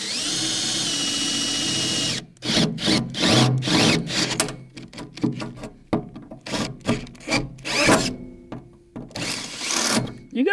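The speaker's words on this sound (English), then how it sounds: "You're going to love these battery drills." A cordless battery drill bores into a wooden bee box. A steady tone for two seconds gives way to a burst of irregular grinding and rasping bursts, close and loud, with no talking.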